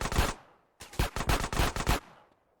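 Automatic gunfire from GTA The Definitive Edition: a short rapid burst, a brief pause, then a longer string of about eight loud, close shots.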